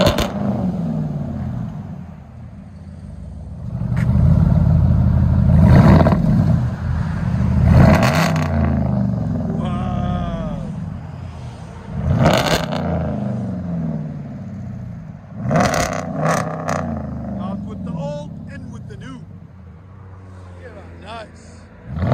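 A 2021 RAM 1500 Limited with a 5.7L V8 and straight-piped true dual 2.5-inch exhaust revs in several loud, deep bursts, each rising and falling, with a steady throaty idle rumble between them and people talking over it.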